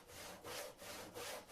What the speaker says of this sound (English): They are sawing those logs and adding logs